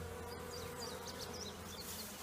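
Steady buzzing drone of many honey bees flying close by around a hive, a dense continuous hum with occasional brighter chirps above it, no talking.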